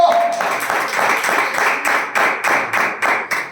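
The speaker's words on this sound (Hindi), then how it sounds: "ताली बजाकर प्रभु की महिमा करें।" A Hindi-speaking church congregation claps loudly and rhythmically in praise of the Lord, with steady, evenly spaced claps in a strong beat that carries on throughout, plus a short voice at the start.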